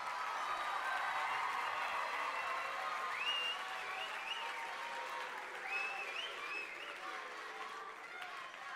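Sustained applause from a big crowd greets singing-contest contestants on stage, with whoops and whistles cutting through the continuous clapping.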